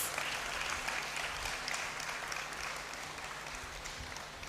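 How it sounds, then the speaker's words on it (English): A hall audience at a university congregation ceremony applauds a speaker, a steady, dense wash of clapping from many hands that holds evenly for several seconds, with no voices over it. "Let us give him another big round of applause."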